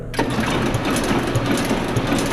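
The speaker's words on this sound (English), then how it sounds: "We're going to start the press and test it." A Ryobi 2700 CD offset printing press starts up and runs steadily, a loud continuous mechanical whir with rhythmic clacking from the feeder.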